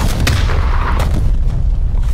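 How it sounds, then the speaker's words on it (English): Artillery fire in the video game Call of Duty: Cold War: heavy booming blasts and rumbling explosions, loud and dense, with a sharp hit near the start and another about a second later. "Hostile artillery targeting active. Net call. Incoming artillery."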